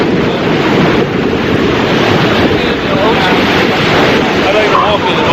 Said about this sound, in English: I like to walk in the ocean.